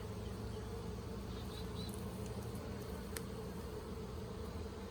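Honey bees hum steadily over a brood frame in an open hive, a continuous close drone of many wings, low and even in volume, with no talking.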